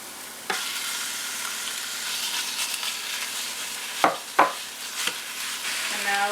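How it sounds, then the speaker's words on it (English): Sausage browning in a pressure cooker for keto chili gives a steady sizzle and hiss, with a few louder scraping stirs and clatters partway through. "Let's add the sausage in first."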